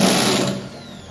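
Screws come out of the top cover of a window-type air conditioner during cleaning: one loud, steady whirring buzz that fades slightly over about a second, with no talking.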